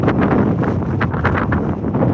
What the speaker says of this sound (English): It's really just the wind noise.